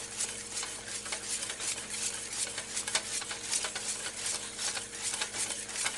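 A spoon stirs bacon mac and cheese with cheese chunks still melting, making soft, repeated scraping and gentle sticky squelches at a steady rhythm with a faint sizzle underneath, close and quiet.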